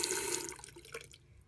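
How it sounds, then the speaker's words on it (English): Water poured into a sink during a salt and water cleansing, a brief close splashing rush that tapers off after about a second. "can be flushed into a sink, and asking for the water be transformed into light"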